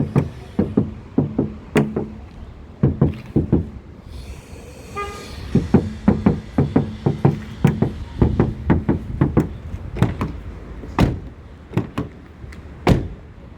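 Knocks on the door of a Daihatsu Sirion car fitted with new foam sound insulation give solid, dull thuds, struck in quick pairs and clusters close up, with a short rattling scrape partway through.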